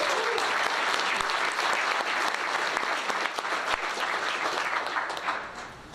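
An event audience applauds and cheers as an honoree is announced, loud continuous clapping from a large crowd that fades slightly at the end.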